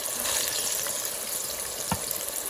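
Sweet ripe plantains fry in a stainless steel pan, giving a steady, close hiss and sizzle with small crackles and one brief clatter, with no voices.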